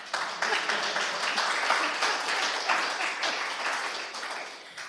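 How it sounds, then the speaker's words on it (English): Conference audience applauding after a talk introduction on Tierless Elixir for IoT systems, a dense, steady wash of many hands clapping for about five seconds, fairly loud and even before tapering slightly. "The applause is for the confusion"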